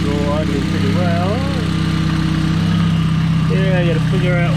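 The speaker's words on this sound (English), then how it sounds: "engine's all idling pretty well" A boosted car engine runs at a steady idle with a constant low hum, close and loud, while someone talks over it.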